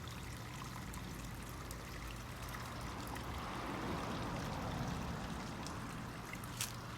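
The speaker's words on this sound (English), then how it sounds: "a little water feature." Water trickles steadily from a small garden water feature beside a railroad-tie path and bench in a private front yard, a soft continuous outdoor burble with no voices.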